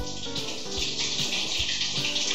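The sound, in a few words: filling shampoo bottle with fresh water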